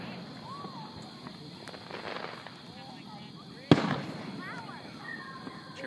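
A 4th of July fireworks display pops and crackles at a distance, with one sharp, loud bang partway through, while people talk softly nearby.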